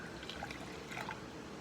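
Water is poured out of a container during a tabletop demonstration, a quiet, continuous liquid trickle with light splashy dribbles.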